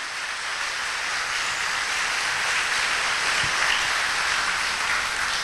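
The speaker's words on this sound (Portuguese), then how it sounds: "eu acho que você pode aplaudir" Sustained applause from a church audience, a thick wash of clapping hands that holds steady and slightly swells, loud and unbroken by voices.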